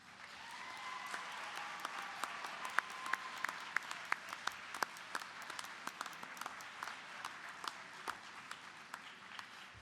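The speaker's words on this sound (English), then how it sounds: "Please turn and applaud your families, friends, and loved ones and show your appreciation and support." Crowd of graduates applauding their families and friends at a university commencement ceremony, steady sustained clapping with sharp individual claps standing out, plus a faint tonal sound near the start.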